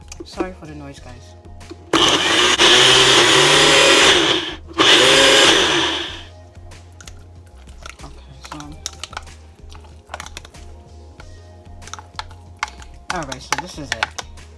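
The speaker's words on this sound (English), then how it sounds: "so I'm going to use my blender here to blend up the" A loud blender roars blending pumpkin with a little water for several seconds, pauses briefly, then whirs again before stopping, followed by quieter kitchen clatter and clicks.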